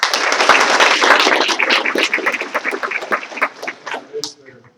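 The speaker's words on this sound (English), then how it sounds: "give a round of applause right there" Audience applause at a school board meeting honoring students and coaches, loud dense clapping that thins into scattered claps and fades out near the end.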